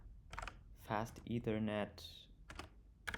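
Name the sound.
typing commands on a computer keyboard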